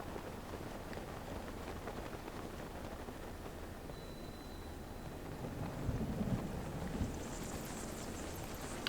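Steady rain pours in Zelda: Breath of the Wild during a thunderstorm in a lightning-struck region, a continuous broadband wash with a low rumbling swell of thunder near the end.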